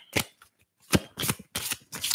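A deck of reading cards is handled and drawn, with four or five crisp, close riffling bursts separated by short pauses, dry and papery, with no voice over them.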